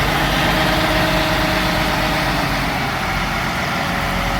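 A Peterbilt big bunk truck's diesel engine idles nearby with a loud, steady, low rumble and no breaks.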